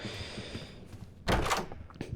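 A door opens in the Roblox horror game Doors, heard as one loud, abrupt thunk after a stretch of quiet dark ambience, trailing off briefly.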